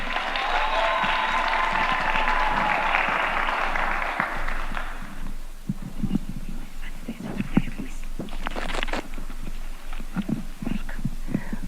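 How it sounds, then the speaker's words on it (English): At the commissioning ceremony of Kisumu Shipyards, the gathered audience applauds a woman leader. A broad wash of crowd noise gives way to sparser, scattered claps of moderate loudness that continue for several seconds. "Let's give her a hand of applause."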